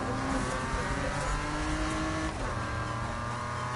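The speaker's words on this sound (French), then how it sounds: "Toujours la BM, elle est toujours en drift" A BMW drifts in the Need for Speed racing game, its engine droning steadily and loudly with a sustained rumble and faint tire noise throughout, no voices present.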